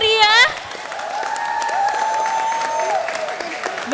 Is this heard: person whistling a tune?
no